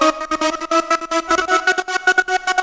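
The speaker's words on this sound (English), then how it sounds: "The next synth I'm adding is this Trance Gate vocal pad," A Trance Gate vocal synth pad from Serum 2, built from two samples with a reverse loop, plays as a choppy, rhythmically gated chordal vocal texture, pulsing rapidly in sixteenth-note bursts, alone and clear for a few seconds.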